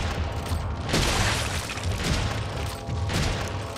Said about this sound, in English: And pull out the shotgun again.